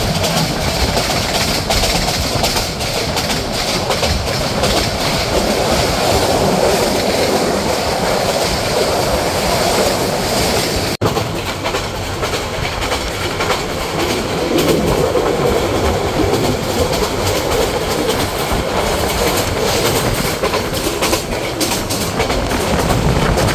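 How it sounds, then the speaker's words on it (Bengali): Porjotok Express train pulling out of Chittagong railway station, a steady loud rumble with clattering wheels and rushing wind noise heard from on board, continuous throughout with no talking. "অর্থাৎ নির্ধারিত সময় থেকে 3 মিনিট বিলম্বে ট্রেনটি চট্টগ্রাম রেলওয়ে স্টেশন ছেড়ে যাচ্ছে।"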